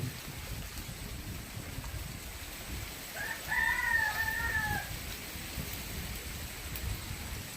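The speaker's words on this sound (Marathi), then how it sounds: "इतका पडतोय रात्रीपासून" Rain that has fallen on a farm since the night makes a steady, faint wash of noise, and a rooster crows once partway through, clear against the downpour.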